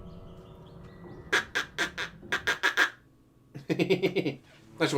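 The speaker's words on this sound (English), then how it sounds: "Quack!" Ducks quacking in the video game Vampyr, a run of loud, rhythmic squawks in two bursts with a short gap between, set over a low ambient game hum.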